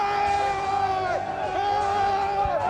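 Crowds in Cairo's Tahrir Square cheer and shout in a dense, continuous roar, with rising and falling whoops and yells riding over constant babble.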